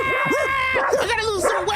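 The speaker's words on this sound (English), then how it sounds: "Oh my god, a fucking dog!" A dog chasing someone barks and yips in quick, loud, close bursts with whimpering pitch slides, continuous over the short stretch.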